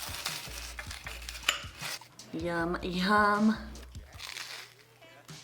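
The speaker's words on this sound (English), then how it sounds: "And listen to that delicious crunch." Crisp crunches from biting into an air-fried toasted sandwich, a few sharp bites, while a voice murmurs appreciatively partway through.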